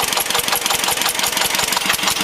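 A combined heat and power engine running on vegetable oil in a multi-speed system runs at a steady idle, with an even, rapid pulsing knock, loud and close with no talk over it.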